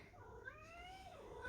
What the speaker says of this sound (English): Want to see the cat?